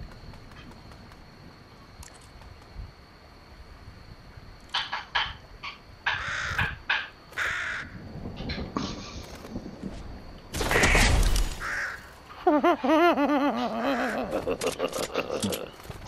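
Crows caw repeatedly in a video game, a run of harsh close calls and flaps building into a louder burst near the end, mixed with game footsteps and effects.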